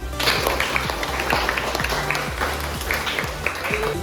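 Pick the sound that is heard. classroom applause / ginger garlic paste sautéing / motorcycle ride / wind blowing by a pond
classroom applause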